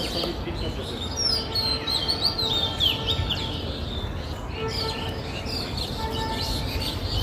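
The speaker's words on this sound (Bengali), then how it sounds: "একটু কান পেতে শুনেন তো কি সুন্দর পাখির কিচিরমিচির" Birds chirping in a leafy park area, thin high twittering calls scattered over steady outdoor background noise, fairly faint and with no talking.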